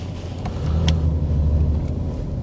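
A 2006 Dodge Durango V8 eases off in drive, its engine a low, steady rumble that swells slightly as the SUV starts to roll, heard from inside the quiet cabin without talk.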